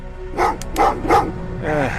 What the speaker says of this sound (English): What's with the dogs?